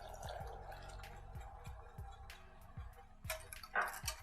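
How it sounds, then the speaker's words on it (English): A cornstarch slurry goes into a homemade sweet and sour sauce while it is being whisked, heard as rhythmic wet taps and clinks of the whisk in the pot, growing a little louder near the end. "I'm gonna pour it in and whisk at the same time."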